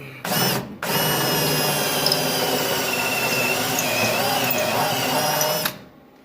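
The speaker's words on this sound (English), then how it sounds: "As long as you drill your pilot hole first, they work great." A power drill drills pilot holes in metal on a 1967 Mustang frame, briefly starting, pausing, then running continuously for several seconds with a high mechanical whine before stopping.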